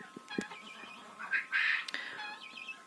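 Domestic guinea fowl on a Ukrainian village homestead give a few harsh, squawking calls close by, short bursts with quieter gaps between them.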